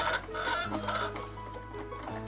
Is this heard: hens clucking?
yes